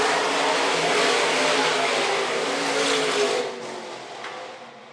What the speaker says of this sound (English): Still a long way to go here for your IMCA stock cars as Kyle Clough continues the lead.